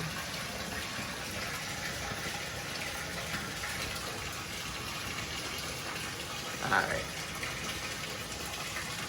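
Tap water runs steadily into a bathtub while its overflow drain is tested for leaks, a constant broadband rush throughout with a person talking briefly over it.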